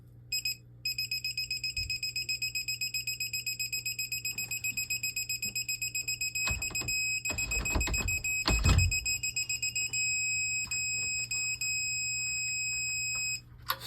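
A digital torque wrench set to 20 newton meters beeps, first in a rapid repeating series as the setting approaches and then in a steady continuous tone. Brief clicks and rattles come partway through.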